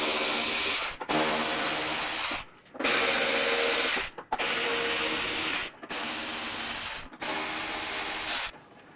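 A 5/32 bolt holding a windshield on a Harley Softail with carbon fiber parts is turned out with a tool. Five close, steady rasping bursts are separated by short pauses, with no talk.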